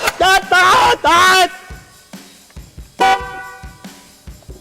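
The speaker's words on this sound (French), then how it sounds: "Je savais que t'allais klaxonner" Several loud, short honks from a Peugeot 406 V6's horn in quick succession, then another blast a moment later, with engine noise in between.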